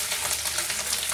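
Onion, green chilli and curry leaves sizzle in hot oil in a pan while cooking poha, a steady, close, crackling fry that fills the short moment with no voices.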